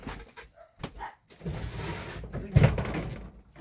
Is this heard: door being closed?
yes